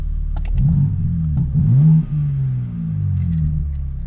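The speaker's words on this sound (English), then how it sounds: "So right now the car started and the valves are open." A 2022 BMW engine idles with a deep exhaust rumble, exhaust valves open, then revs up and settles back down, close and loud with no talking.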